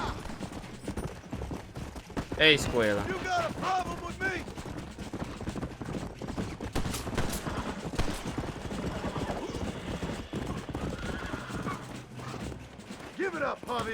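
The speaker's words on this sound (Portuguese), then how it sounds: "Ó, o cavalo chegou a tempo" Horse hooves clop at a gallop in the Red Dead Redemption video game, arriving steadily and fairly close beneath continuous talking and game sounds.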